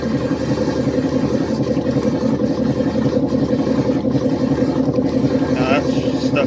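A 1955 Frigidaire Unimatic washing machine's pump runs loud and close, a steady droning mechanical hum that holds evenly throughout with a faint higher whine near the end.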